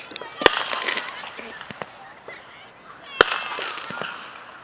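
Late-evening fireworks exploding outdoors in lingering daylight, two sharp loud bangs a few seconds apart amid crackling pops, with a person talking nearby over the show.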